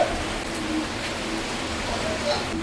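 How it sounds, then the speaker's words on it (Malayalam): Rain falls outdoors in a steady, even hiss that continues unbroken throughout, with no clear voices. "മഴ പെയ്യുന്നുണ്ട് കേട്ടോ"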